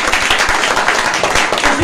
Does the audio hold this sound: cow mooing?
no